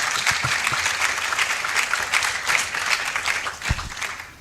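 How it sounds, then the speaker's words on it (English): An audience at an African Liberation Day celebration applauds for the minister, a steady wash of clapping from a moderate crowd with a few sharper, closer claps standing out. "We give please a note of applause for the minister."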